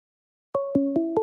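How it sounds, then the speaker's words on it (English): A cell phone call rings out through the earpiece after a brief silence, with a few short repeated electronic tones, clear and close. "Let me call him on my cell phone really quick."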